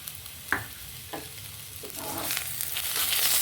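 Ginger paste, cumin, turmeric, salt and slit green chillies fry in oil while a spoon taps and stirs the pan a few times; the soft sizzle then swells into a louder, steady frying hiss.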